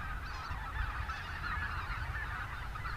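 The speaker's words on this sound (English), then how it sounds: "Yes, snow geese coming in for a landing." Snow geese coming in to land, a dense flock honking continuously in overlapping nasal calls, moderately distant and steady, with no voices.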